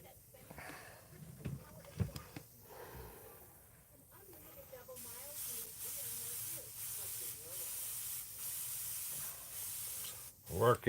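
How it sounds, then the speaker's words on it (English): An airbrush sprays in steady bursts, a close airy hiss switching on and off in a regular rhythm after some quieter handling noise at the start. "We got Tim's airbrush going here."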